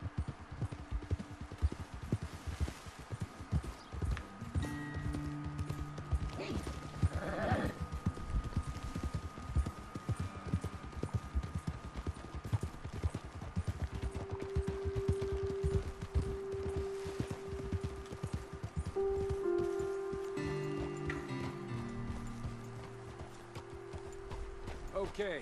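Horses clip-clop along in Red Dead Redemption 2, a steady rhythmic trot of hooves with a brief whinny partway through, set under ongoing character dialogue and background game music.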